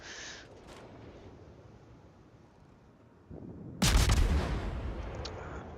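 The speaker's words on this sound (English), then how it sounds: "I'm constantly just pumping shots back out at him, which is nice." Naval gunfire from a Khabarovsk destroyer in World of Warships: a quiet stretch, a soft thump, then one loud, heavy salvo boom that rolls off into a long rumbling decay.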